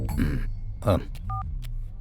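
A telephone being dialed in an Indian comedy film, a short beep of keypad tone between lines of dialogue.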